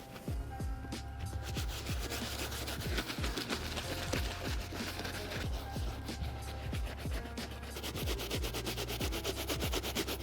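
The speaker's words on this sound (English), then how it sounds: "The soft bristle brush is breaking down a lot of the grime on the uppers." A soft bristle brush scrubs the uppers of white leather 2025 Jordan sneakers, a close, quiet series of quick rhythmic back-and-forth rubbing strokes with no talking.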